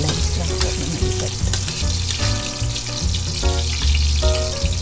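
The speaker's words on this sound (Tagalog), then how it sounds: "Painitin lang po natin at tayo po ay mag-gigisa." Sliced ginger sautéing in a hot pan, a steady loud sizzle and frying crackle with clinks of utensils stirring, no voices.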